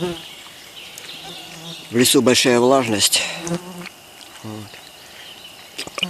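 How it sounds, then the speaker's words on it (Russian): Insects buzz and whine steadily close by, mosquitoes and midges swarming after heavy rain on a fishing trip, while someone talks over them partway through. "Комары активированы, мошки активированы."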